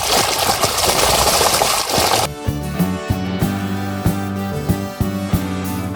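Irrigation water rushes into a field channel on a farm with wheat, okra and guar. A loud, steady broadband gush lasts about two seconds, then cuts abruptly to sustained tonal music.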